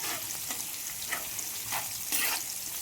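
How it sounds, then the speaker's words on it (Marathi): Sliced pieces fry in ghee in a hot pan, a steady close sizzle with brief louder bursts of crackle as they are turned and stirred, no voices. "इथे आपण केलेले काप हे तळण्यासाठी टाकत आहोत"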